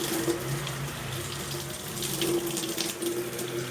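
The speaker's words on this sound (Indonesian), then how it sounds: "Setelah itu kita nyalakan kembali kerannya, lalu bilas dari ujung kuku sampai siku." Tap water runs steadily from a faucet into a sink while hands are rinsed from fingertips to elbows during surgical hand washing, a continuous close splashing flow with no talk.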